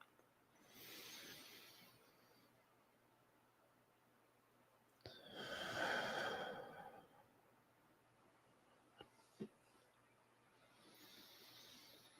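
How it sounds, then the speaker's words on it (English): Slow, soft breaths rise and fall in long swells during a quiet guided meditation, faint and close, with a couple of small clicks between them. "breathing in."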